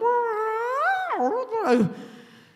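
A human voice imitates a cat yowling at midnight, one long rising then wavering wail that drops and breaks into a strained moan, close and fairly loud.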